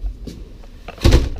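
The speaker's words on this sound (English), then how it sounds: "There's a pocket door that closes right here to give you privacy." Pocket door in the bathroom of a 2015 Winnebago Brave 31C motorhome sliding shut, a short, close rolling bump that ends in a firmer thud after a quiet pause.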